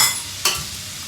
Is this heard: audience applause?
no